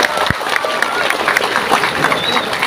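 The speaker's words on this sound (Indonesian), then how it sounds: "Tepuk tangan untuk Indramayu" A crowd claps at a religious lecture in Indramayu, a busy patter of hands running steadily with voices and murmurs mixed in.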